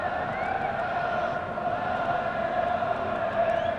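Stadium crowd at a 1992-93 Serie A match between Torino and Milan in Italy, a steady dense roar with swelling chants and whistles held throughout, loud and continuous with no voices standing out.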